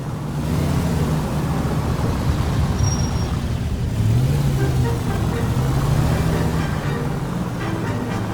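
A car is driven in the 1940s Los Angeles crime game L.A. Noire, giving a steady engine drone with rising and falling revs and road noise under it, while voices talk over the drive.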